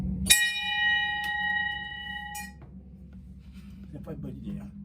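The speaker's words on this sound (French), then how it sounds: "y a une cloche, je vais la sonner" A bell in an escape room struck once, ringing out clearly with a long bright decay and a second lighter tap, followed by faint talking in the room.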